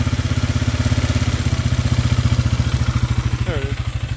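Polaris Scrambler ATV engine idling down, a close, steady low thumping pulse with a rhythmic mechanical clatter that eases slightly near the end.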